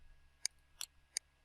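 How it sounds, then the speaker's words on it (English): Three crisp computer mouse clicks sound close up at steady intervals over a low background hum while a building model is worked on in structural design software. "We'll click."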